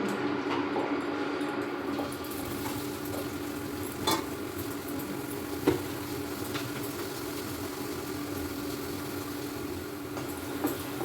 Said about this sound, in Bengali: আলুটা ছেড়ে দিই।